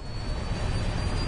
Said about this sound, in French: L'avion plonge maintenant vers la mer.